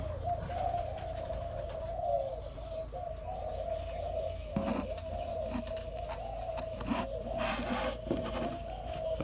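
A Malaysian spotted dove coos repeatedly in a steady rhythmic series of soft, low calls at a bird farm, close and clear over a constant low background hum.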